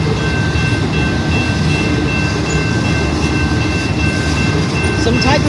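Railroad cars of a freight train rolling in reverse at Plymouth, Michigan, a steady continuous rumble with a faint high tonal squeal throughout, heard from trackside.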